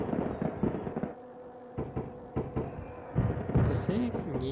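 Sharp pops and crackling bursts of fireworks in the Densha de Go! train game on the Enoshima Electric Railway, with a voice talking over them and a few scattered bangs amid a busy game soundscape.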